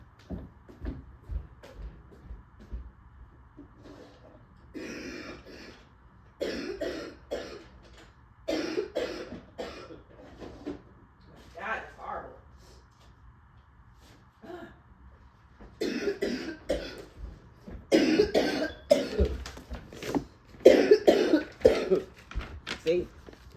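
Repeated bursts of a person coughing, loud and close, in clusters with pauses between them, some throat clearing mixed in over a quiet room background.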